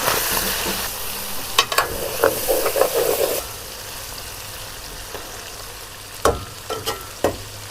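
Garlic frying in a pan, a loud close sizzle with sharp stirring clatter in the first few seconds, then a quieter steady fry with occasional utensil knocks.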